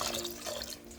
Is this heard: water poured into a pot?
yes